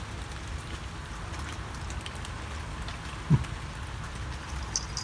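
Rain falls steadily over a house garden, a dense even patter filling the whole stretch, with one soft thump partway through.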